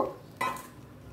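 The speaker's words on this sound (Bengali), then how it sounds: "এর মাঝে আমি নিয়েছি 250 গ্রাম পরিমাণ সিম আর মাঝারি সাইজের একটা আলু দিয়েছি। দিয়ে আমি এখন এগুলোকে একটু কষিয়ে নিব।" Beans and a medium potato being sautéed in a pan: a short scrape and clatter of stirring at the start, then a single brief burst of sizzle midway, close and fairly quiet.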